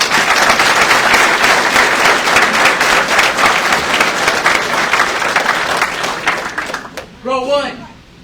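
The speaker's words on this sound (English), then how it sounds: "Please join me in a round of applause for all of our awardees." Loud, dense applause from a crowd at a BSOC military graduation ceremony, honoring the awardees, sustained for several seconds before fading out near the end, where a brief voice is heard.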